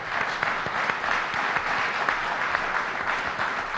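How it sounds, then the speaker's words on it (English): A panel-discussion audience at an All-American Girls Professional Baseball League event gives a sustained round of steady applause, dense and moderately loud throughout with no speech over it. "Dolly, everybody give Dolly a great round of applause."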